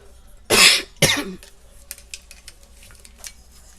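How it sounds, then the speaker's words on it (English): Two sharp, loud coughs close by, one after another, followed by faint light clattering and small sounds in a quiet space. "I don't know why all of a sudden I want to start coughing"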